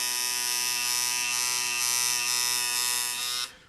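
A tattoo machine with a 4-needle shader buzzes steadily in a bright, electric drone with a rich harmonic whine, close and continuous, then cuts off abruptly.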